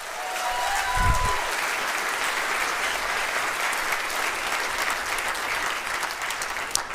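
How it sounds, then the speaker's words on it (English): A large crowd at a university state-of-the-university address applauds steadily, a broad, even wash of clapping that holds throughout at moderate volume. "So let's give that a round of applause."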